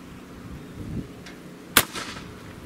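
A single sharp report from an AEA Element MAX .50 caliber airgun, one loud crack standing out from a quiet outdoor background with a brief decaying tail.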